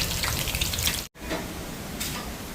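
Vada frying in hot oil on a stove, with a steady, dense sizzle and crackle up close. The sound breaks off briefly once, then carries on at the same level.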